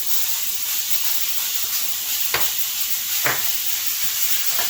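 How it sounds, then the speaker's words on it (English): A pound of ground beef browns in a very hot skillet, giving a steady loud sizzle and hiss throughout, with a couple of brief scraping stirs. "And I'm going to start browning this up. Oh yeah, I know it's loud"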